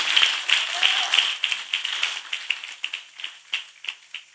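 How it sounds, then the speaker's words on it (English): Church congregation claps in a steady rhythm, sharp individual beats that tighten into an even tempo, close and fairly loud, with a murmur of voices underneath. "Let us clap for Master Jesus once again."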